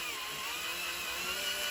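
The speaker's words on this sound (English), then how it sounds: "Okay, let's drill this." A power drill whines steadily while drilling into a motorcycle gear selector ball joint on a Triumph 955i Sprint, a constant close motor tone without pauses.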